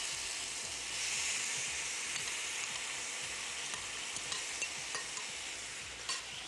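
Chicken searing on a grill pan for shawarma, a continuous close hiss and sizzle with occasional light scraping, steady and unbroken, no talk.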